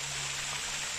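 Water runs along a small stream at Ain village in Al Baha, a steady broadband rush with no break, close by and moderately loud, and a low steady hum beneath it.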